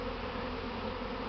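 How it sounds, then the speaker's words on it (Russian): A huge swarm of Buckfast bees hums in a dense, steady buzzing drone, close and continuous, with no other sounds. "Полулея пчел вышло."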